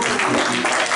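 Church congregation clapping their hands during a sermon, a dense, steady wash of applause lasting about a second.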